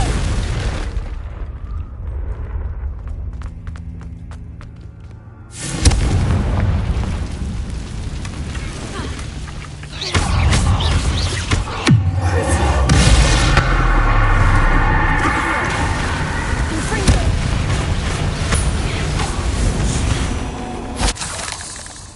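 Explosion spells from the Hogwarts Legacy video game, with repeated loud booming blasts and crackling bursts that follow one another over a steady dense game soundscape, with no talking.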